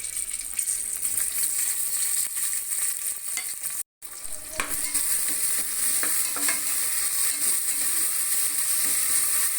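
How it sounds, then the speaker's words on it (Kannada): Onions and green chillies fry in hot oil for vegetable pulao, making a steady, fairly loud sizzle with light stirring clicks. There is a brief silent gap near the middle, and no voices are heard. "ಈರುಳ್ಳಿ ಎಲ್ಲ ಕೆಂಪಾಗೋ ತನಕ ಸ್ವಲ್ಪ ಚೆನ್ನಾಗಿ ಫ್ರೈ ಮಾಡಿ."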